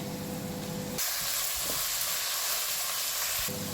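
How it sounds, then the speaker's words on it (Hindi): Vegetables lightly stir-fried in a pan for egg fried rice make a steady, loud sizzle that swells brighter partway through, with soft stirring, and no voices. "सब्जियों को हमने हल्का सा फ्राई करना है, हमने ज़्यादा इसको नहीं पकाना"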